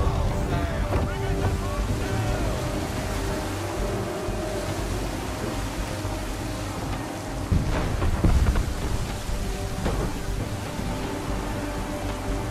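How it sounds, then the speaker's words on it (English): A storm at sea in Assassin's Creed 3 churns with heavy rain, rolling thunder and crashing waves around a sailing ship, a continuous loud wash with a sharper thunder swell near the end. "There's a storm coming, Captain. Feels like a big one."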